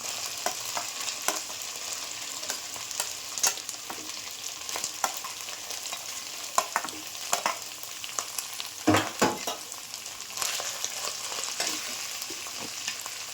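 Onions sizzle and fry in hot oil with ginger and garlic for a duck curry, a steady crackling hiss with scattered pops and stirring scrapes, close and moderately loud with no talk.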